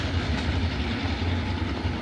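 A train runs through Clayville with a steady, loud rumble and rhythmic clickety-clack from its wheels on the rails. It sounds close and continuous, with no talk.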